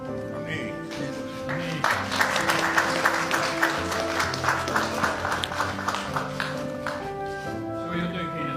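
An audience at a Finnish Independence Day remembrance gathering applauds steadily for several seconds, with a sustained tone and some voices sounding over the clapping.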